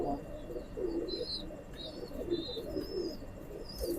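Teddy pigeon, a male bird, cooing softly in repeated low rolling phrases close by, with faint high chirps from other birds in the background.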